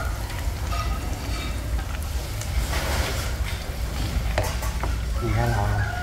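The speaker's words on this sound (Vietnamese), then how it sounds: "Nhìn chiên chả giò ha." Spring rolls deep-frying in hot oil in a home kitchen while cooking for a family Lunar New Year feast: a steady, close sizzle and crackle throughout, with occasional clinks and bubbling bursts near the end.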